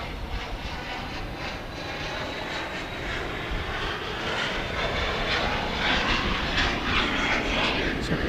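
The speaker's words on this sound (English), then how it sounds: "There's a plane in the air overhead somewhere" A fixed-wing airplane flying overhead at night near Dallas Love Field airport, a steady broadband engine roar that swells slightly toward the end, continuous and moderately distant.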